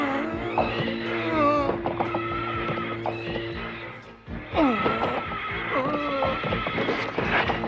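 A horse neighs and whinnies repeatedly, loud and shrill, with pitch swoops and a short pause midway.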